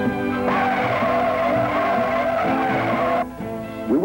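A 1969 Ford LTD with a 429 engine, disc brakes in front and drums in the rear, brakes hard from 30 mph, its tires giving a loud, sustained squeal that cuts off abruptly after about three seconds.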